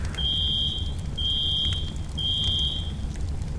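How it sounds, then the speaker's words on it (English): A fire alarm in the FiveM mod of GTA V, sounding three long, piercing high-pitched tones in an even repeating pattern over a low steady background hum. "can't turn the alarm off just yet"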